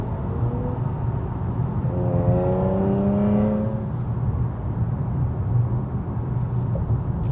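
A car cruising in fifth gear along a road in North Carolina, a steady low engine drone and tyre roar with a brief rising whine in the middle, continuous and close.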